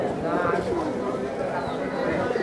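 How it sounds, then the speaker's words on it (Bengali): Pure Kaldom pigeons coo and murmur nearby at a large pigeon market in Khalishpur, Khulna, their soft throaty calls running under someone speaking. "একটা পিওর কবুতর, পিওর কালদম বলে এটাকে"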